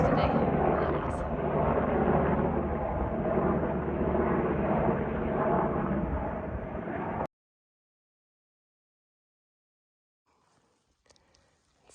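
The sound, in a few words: helicopter flying overhead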